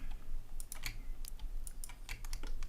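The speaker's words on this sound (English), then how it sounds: "So I'm going to left click." Crisp computer mouse clicks while working in Blender 2.82, sounding as a scattered run of quick, close clicks and key taps over a low background hum, with no voices.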